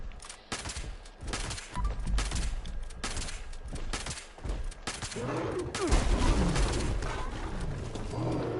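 Fallout 76 weapon test: bursts of loud rapid gunfire with short gaps between volleys, then a heavier sustained stretch of shots with rumbling echoes, no talking.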